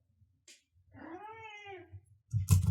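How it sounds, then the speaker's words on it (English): An indoor cat lets out one drawn-out, wavering meow close by in a quiet room, with faint low hum beneath and a short burst of noise at the end. "There's a cat in this room."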